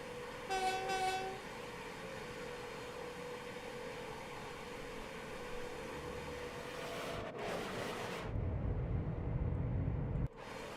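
A Class 350 electric train in Train Sim World 5 sounds a loud two-tone horn, then rushes past with a steady rumble that swells into a heavy, roaring pass before cutting off abruptly.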